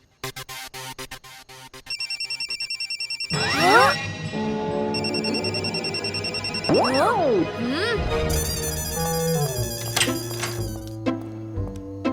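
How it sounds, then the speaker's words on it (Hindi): A phone rings in a Hindi TV comedy scene, a repeated electronic ringtone in bursts over busy background music and sound effects, loud and close throughout. "मैं दादाजी के फोन पे कॉल करके उन्हें जगाता हूँ।"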